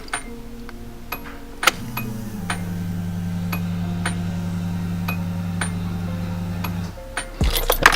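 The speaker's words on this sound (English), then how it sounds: "Listen for the fuel pump to prime." A Walbro 255 fuel pump priming in a Nissan 240SX S13 hums as a steady low whine for about five seconds, then cuts off. Faint ticking sounds underneath throughout.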